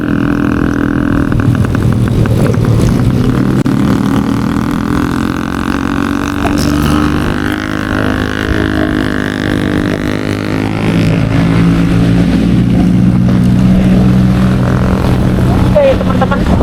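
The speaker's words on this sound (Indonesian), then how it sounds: "depan belakang knalpot racing semua nih" Motorcycles fitted with loud aftermarket racing exhausts on a road in traffic, a dense steady engine drone with rising and falling revs close by, under ongoing talk.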